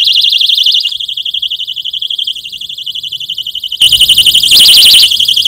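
Homemade tripwire alarm sounding, a loud piercing electronic warble that pulses rapidly, quiets partway through, then returns at full strength, with no voices.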